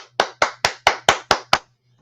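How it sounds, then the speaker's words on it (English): Seven sharp, evenly spaced hand claps ring out alone, close and loud, each with a quick decay, under a faint low steady hum. "Let me applaud."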